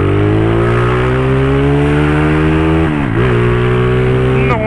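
A tuned Honda Today scooter engine revs hard, its loud buzzing note rising steadily, dipping briefly around the middle, then climbing again, close up with no talking.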